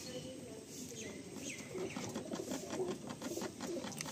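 A Madrasi pigeon coos softly at close range, several low repeated calls under a faint background murmur.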